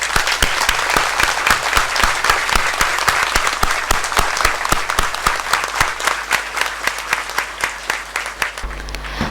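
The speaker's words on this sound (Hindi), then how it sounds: "सब खड़े होकर मेरे साथ तालियां बजाने में शामिल हो जाए" A standing audience at an Independence Day school celebration applauds children's parade, a dense, sustained roar of many hands clapping with crisp individual claps standing out, loud and continuous before fading at the end.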